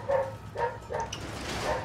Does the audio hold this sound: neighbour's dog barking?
yes